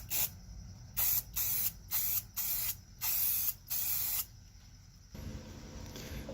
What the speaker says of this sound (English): So I'm going to go out and give it a quick coat right now